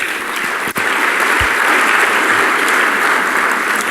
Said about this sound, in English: a round of applause for our incredible dancers,